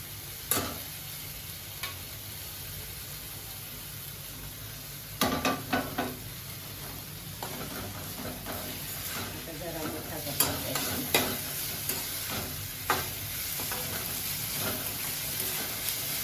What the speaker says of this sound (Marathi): आता ह्याला बघा, ह्याला पण घालून छान परतून घ्यायचं